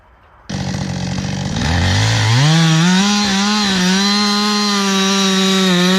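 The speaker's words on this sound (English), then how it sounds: "a worker wearing protective gear and a hard hat was carefully using a chainsaw to cut into a large tree trunk" A chainsaw bites into a large tree trunk in a dense forest, its engine snarling up to a loud, sustained whine that rises and holds steady for several seconds at close range.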